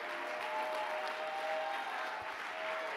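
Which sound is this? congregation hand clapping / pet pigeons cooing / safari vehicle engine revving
congregation hand clapping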